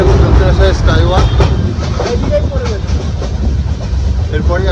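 The Dooars Express pulls out of Dakshineswar station with a loud, continuous rumble and rhythmic wheel clatter from on board, while someone speaks over the train noise.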